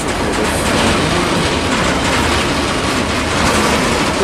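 A CSX freight train hauling auto rack cars rolls past at night. The wheels clatter loud and close in a continuous rumbling, clickety-clack rush with no talking.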